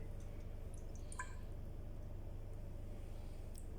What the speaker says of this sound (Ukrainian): І доливаємо залишок води, яка є у колбі.